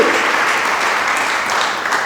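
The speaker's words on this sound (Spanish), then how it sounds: "Dele palmas al que todo lo puede" Church congregation applauding during a pastor's sermon, a steady, dense wash of clapping filling the whole moment, loud and close with no voices over it.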